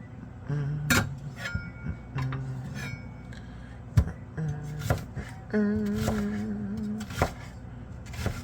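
A large onion being peeled and cut on a board in a home kitchen: a series of sharp knife chops and thuds with papery rustles and clinks between them, fairly close and moderately loud, with no talking.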